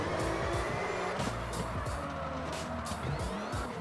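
A car drifting in the racing game CarX Drift Racing 2, with a strained, revving engine and screeching, skidding tires that keep surging and fading, with no talking.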